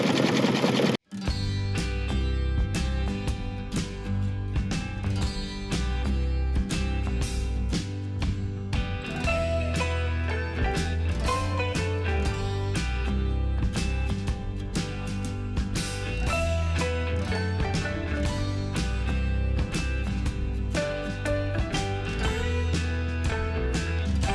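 An embroidery machine stitching out a cartoon girl's hair and face outline on an in-the-hoop bag design: a loud, rapid, continuous mechanical whir and tapping that runs nonstop after a brief start, with no talk.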